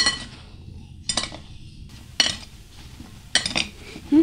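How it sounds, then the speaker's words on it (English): Apples being mixed in a bowl for a caramel apple pie, with a few distinct scraping, clinking strokes of a utensil against the bowl separated by quiet pauses. "I'm just going to put it with my apples and mix it around"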